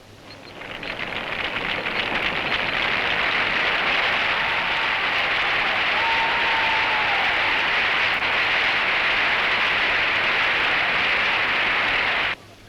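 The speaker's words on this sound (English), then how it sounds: "the crowd is cheering Bradman for his 100" Crowd at a Bradman cricket Test in Australia cheering and applauding his century, a dense, steady roar of claps and voices holding for about twelve seconds before cutting off.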